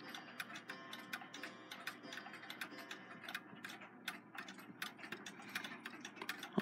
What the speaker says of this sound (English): it's a Seth Thomas Model 89 movement that's been modified to be an alarm clock.